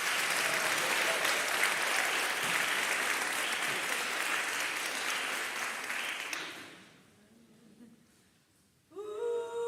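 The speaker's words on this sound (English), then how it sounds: "Can we give her a nice hand of applause?" Church congregation at a Sunday service applauding the singer Sophie, a dense, sustained round of clapping that fills the room for several seconds, then fades away before a voice begins speaking at the end.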